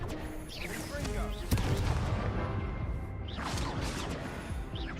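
In the Hogwarts Legacy video game, a Confringo explosive spell goes off amid combat, with booming blasts and crackling bursts over rapid battle noise and a voice shouting through it.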